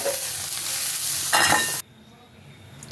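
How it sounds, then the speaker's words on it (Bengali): Potatoes, soybean chunks and onions are stirred in a hot pan, giving a loud continuous sizzle with scraping stirs close up, which drops abruptly to a faint background hiss. "তিনটাকে মিক্স করে ভালো করে একটু ভেজে নেব"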